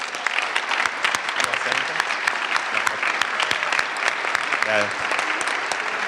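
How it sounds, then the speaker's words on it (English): A crowd claps enthusiastically with steady, dense applause throughout, and a voice briefly speaks over it. "give her a round of applause"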